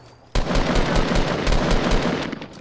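Rapid automatic gunfire in the video game Fortnite begins abruptly and continues as a dense, loud burst of shots for about two seconds with no talking.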